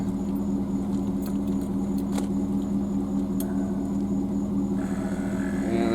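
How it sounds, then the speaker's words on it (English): A truck's air compressor runs steadily to pump up air shocks under a 24-foot trailer, a continuous droning hum with a faint rattling texture that holds at an even level throughout. "And there goes the compressor."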